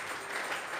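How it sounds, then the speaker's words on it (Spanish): A church congregation claps hands together, a dense brief burst of many overlapping claps at moderate loudness. "Vamos a regalarle ofrenda de palmas al Dios de la gloria"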